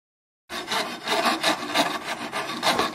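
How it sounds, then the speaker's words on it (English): A snap file and a fret beveling file scrape steadily over the frets and wood edge of a guitar neck, a close, continuous rasping with rhythmic back-and-forth strokes and no talking. "Using the snap file and the fret beveling file, I can file the frets and the wood at the same time"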